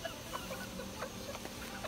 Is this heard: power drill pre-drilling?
no